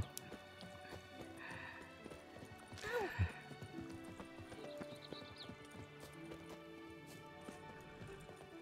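Horse hooves clip-clop steadily in the video game The Witcher 3, soft and fairly distant, with a brief whinny-like sound and scattered clunks among the game ambience.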